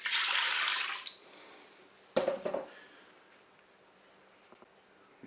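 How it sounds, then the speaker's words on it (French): Milk poured into the bowl of a Cookeo multicooker, a brief bright splashing gush at the start, then a quieter bump and clatter in the bowl followed by faint hiss. "Je verse le lait dans la cuve."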